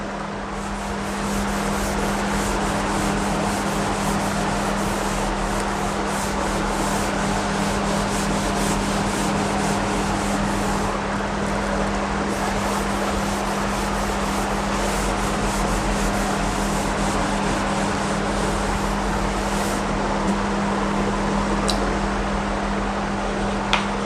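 Writing being rubbed off a classroom board during a school geometry lesson, a long, continuous, even scrubbing sound with a steady hum beneath it.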